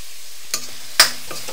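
Chopped onions drop into a hot pan for chilli prawn and are stirred. Two sharp sizzling bursts from the pan, the second louder, stand out over a quiet background, followed by a soft lingering crackle.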